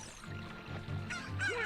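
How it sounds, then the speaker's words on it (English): Clucking chickens in the video game Zelda: Ocarina of Time, a few short fowl calls over a steady game background hum. "See, look, we have 2 chickens."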